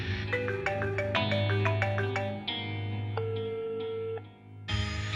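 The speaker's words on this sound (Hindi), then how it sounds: "फोन उठाओ।" A phone rings in a TV drama, with melodic ringtone notes over a soft sustained music bed, moderately quiet and with no talk.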